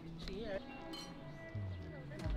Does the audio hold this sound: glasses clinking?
yes